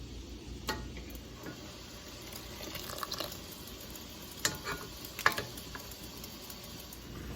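Maple sap bubbles and simmers quietly as it boils down toward syrup, with scattered small pops and ticks over a soft steady hiss.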